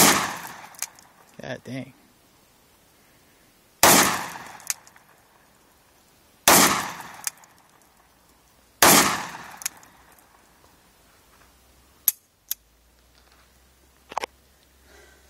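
Taurus Judge Governor 410 revolver shots outdoors, four loud sharp cracks spaced a few seconds apart with a couple of fainter pops afterward, and someone speaking briefly between them.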